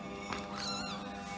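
Grey cat yowling during a squabble with another cat, a drawn-out, wavering caterwaul rising and falling in pitch, fairly faint but clear and close.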